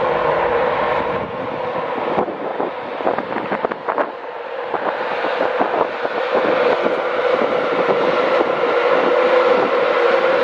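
Train moving through Doncaster station, a steady rumbling roar with clattering wheel and rail noise building toward the end, close and continuous.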